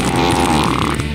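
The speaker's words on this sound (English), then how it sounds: "Okay, just kidding. There will be farts and stuff." A loud, sustained fart sound effect from the trivia video game You Don't Know Jack 2015 rumbles and sputters for about a second, rough and buzzy, with no talking over it.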